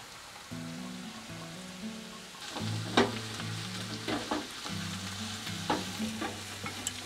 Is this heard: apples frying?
yes